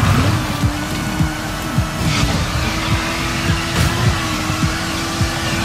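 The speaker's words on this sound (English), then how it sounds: "as soon as I add boost, it just sounds like the engines is Blow the fuck up" A vehicle engine in a video game roars under boost, a harsh continuous growl with rapid repeated revving surges and crackling, loud and close throughout.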